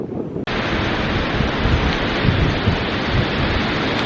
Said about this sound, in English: I'm sure you can see and hear how windy it is